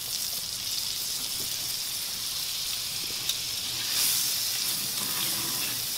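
Butter sizzles on a Himalayan salt block that has been heated for an hour, a steady, close, crackling hiss of frying that continues evenly throughout.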